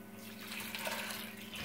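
About a litre of water pours steadily into a pot of soaked mash lentils. It makes a faint, continuous rushing splash that lasts for the whole short moment.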